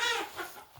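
A hen in a coop during freezing winter weather gives a short, close series of clucks and throaty calls lasting under a second, with no talking.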